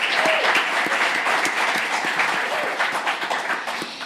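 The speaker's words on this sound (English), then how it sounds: "one more round of applause" Audience applause at a live radio music show, a steady dense wash of many hands clapping throughout, fairly loud and close, gradually thinning toward the end.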